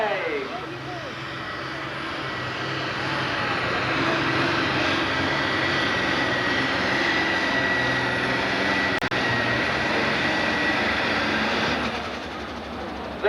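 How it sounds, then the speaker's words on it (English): A loud, heavy Ford tractor engine roars steadily under load for several seconds during a tractor pull, building and holding at a strained drone, with an announcer's voice over it. "The Ford tractor is underway."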